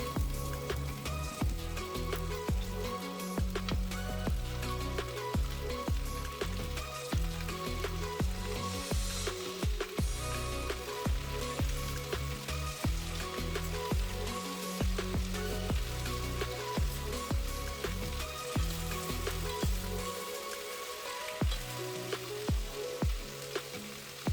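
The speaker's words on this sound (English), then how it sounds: "Once the oil is heated, add Ivy gourd and fry on a medium flame." Ivy gourd fries in hot oil over a medium flame, giving a steady, dense sizzle with constant crackling pops that stays close and even throughout, with no voices.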